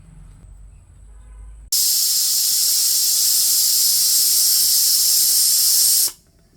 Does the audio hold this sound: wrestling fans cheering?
no